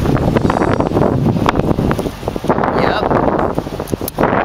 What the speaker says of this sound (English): It's just a extremely windy day.